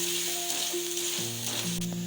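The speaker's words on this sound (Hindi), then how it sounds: "इसके साथ ही अब मैं ऐड कर रही हूँ आलू को बस मैं 2 मिनट इसमें चलाऊंगी।" Potatoes stirred in a hot frying pan for potato spaghetti, making a continuous close sizzle with faint stirring scrapes, while steady tonal hums from other sources sit underneath.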